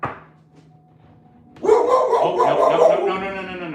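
A pet dog at home barks and yips in a rapid, excited burst that runs on for about two seconds, loud and close, after a quieter stretch of faint room sound.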